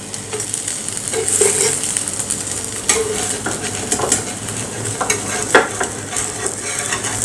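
Food sizzles softly on an iron griddle while a spatula taps and scrapes now and then, close up, with no one talking.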